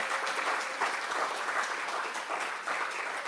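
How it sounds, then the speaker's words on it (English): Audience at a book launch for a work on decolonizing the Trinidadian mind claps warmly, a dense, steady round of applause from a seated crowd lasting the whole span. "please give another round of applause for Mr. Brian Sankasingh."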